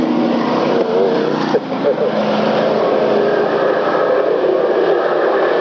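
Race cars roaring around a track in a September 1994 race, a dense, continuous engine drone with shifting pitch, loud and steady, with a race announcer talking over it throughout.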